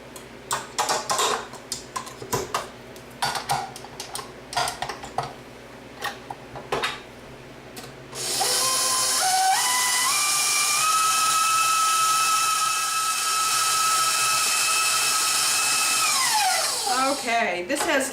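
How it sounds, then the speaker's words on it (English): A stand mixer beating cookie dough at higher speed starts up about halfway through with a steady, loud whining motor hum that ramps up in pitch, holds, then winds down at the end, after a stretch of clattering kitchen sounds. "we're going to put it back on the mixer and beat it at a little bit higher speed to make sure that everything gets nice and fluffy"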